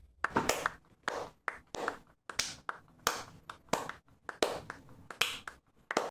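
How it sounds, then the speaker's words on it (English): Podcast hosts clap into their microphones, a dozen or so sharp, distorted claps in an uneven rhythm, each one close, loud and peaking. "I bet those claps sound terrible."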